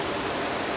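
Steady rain falls in a dense, continuous hiss, evenly loud throughout with no voices over it.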